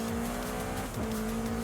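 Race car in Forza Horizon 5 braking into a corner, a loud sustained engine drone that dips in pitch as speed drops, with a brief scrub of tires midway, no talk.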